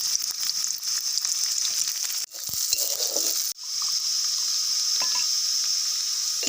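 Onions frying in hot oil in a kadai give a bright, steady, close-up hiss, briefly interrupted twice by spoon or utensil knocks before the sizzle resumes.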